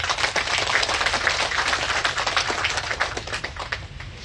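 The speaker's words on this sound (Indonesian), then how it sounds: "Tepuk tangan untuk beliau." An audience at a building inauguration in Sambas claps steadily for an arriving official, a dense, even patter of many hands that carries on throughout at a moderate level with no talking.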